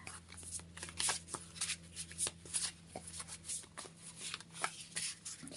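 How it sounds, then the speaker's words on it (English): A deck of tarot cards is shuffled by hand in a series of close, papery riffling and rustling bursts with soft taps between them, continuous for several seconds. "Okay, so I'm going to shuffle this deck."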